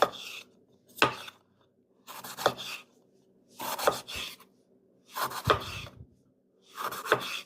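A knife cuts a bell pepper into thin slices on a board in six separate, evenly spaced strokes, each a short rasping crunch followed by a pause of silence.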